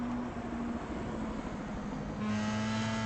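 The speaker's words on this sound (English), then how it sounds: "listen to the sound of these cars for a lap around Watkins Glen" Racing car engines roar on board during a lap of Watkins Glen, a loud continuous engine drone that holds steady and then shifts pitch as the car changes gear.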